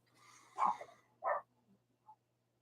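A dog gives a few short, fairly faint barks from a distance, two clear ones and then a small yip, over a low steady hum.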